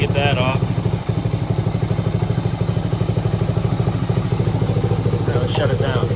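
A 1978 Suzuki DR370 motorcycle engine, revived after sitting in a garage for over 25 years, runs at a steady idle with a fast, even, close-up putter throughout, with brief talk over it.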